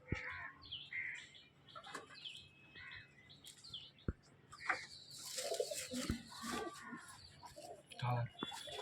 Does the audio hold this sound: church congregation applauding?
no